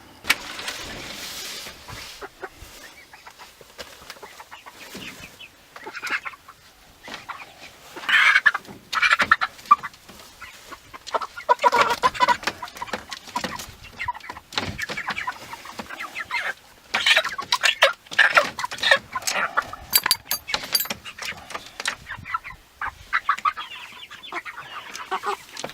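Poultry birds waiting before going to the processor, clucking, squawking and gobbling as a flock at close range, with loud calls and brief rustles that shift throughout.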